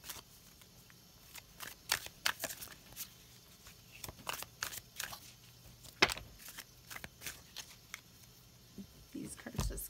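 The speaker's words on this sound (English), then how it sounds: "I'm going to shuffle for more" Tarot cards are shuffled by hand in quick, crisp bursts of riffling and sliding, soft and close, with short pauses between flurries in a quiet room.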